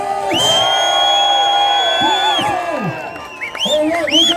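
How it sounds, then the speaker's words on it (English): Outdoor rally crowd in Christchurch, New Zealand cheering, whooping and shouting in a loud, sustained roar, with voices rising and falling close by. "Right, make some noise, Christchurch."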